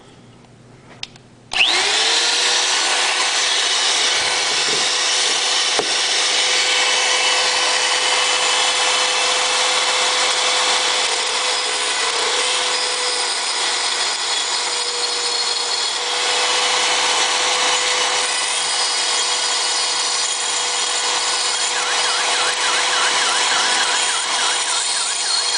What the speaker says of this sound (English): all I have is this Rotozip, and I'm just gonna carefully try to grind away what's left